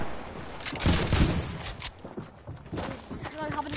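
Rapid bursts of video game gunfire crackle close up in short volleys, mixed with excited shouting from a player.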